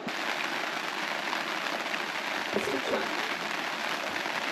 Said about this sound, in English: So it just started to rain again